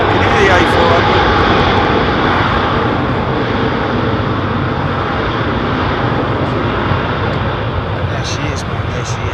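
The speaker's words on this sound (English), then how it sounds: "I can hear the A400." An Airbus A400 military aircraft flying over Heathrow Airport, a loud, steady engine roar filling the whole clip, with people talking over it.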